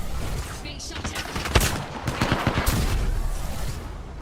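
Bursts of automatic gunfire from the Apex Legends battle royale shooter crackle in rapid clusters, fairly loud and sustained throughout, with a voice speaking over the shooting.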